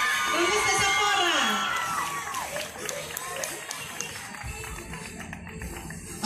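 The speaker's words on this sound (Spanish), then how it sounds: "Un fuerte aplauso, por favor." A crowd at a patronal fair queen candidate presentation cheers and whoops loudly, with shouting voices that fade into scattered claps and lighter crowd noise.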